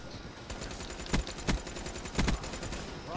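Rapid gunfire from a Black Ops 3 multiplayer match, automatic bursts and sharp single shots crackling continuously at close range with a few louder reports standing out.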